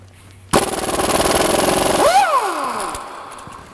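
Air impact wrench on shop air at just under 120 PSI hammering at a 19 mm crank bolt on a Honda 1.7-liter engine, a loud close burst of rattling for about two seconds before winding down.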